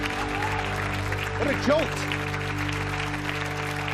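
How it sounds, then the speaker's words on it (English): Studio audience applause at a talk show, a broad steady wash of clapping that holds and begins to taper while someone speaks over it. "interesting watching you figure out communally when to taper off that applause"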